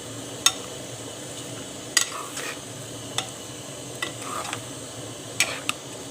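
Spices fry and are stirred in a pot of tinday gosht, a soft steady sizzle broken by several sharp clinks of a spoon against the metal pot.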